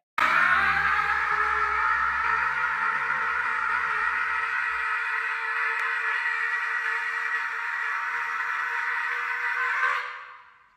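A woman lets out one long, loud, sustained scream that holds steady for about ten seconds and then cuts off abruptly, heard alone with no other sound.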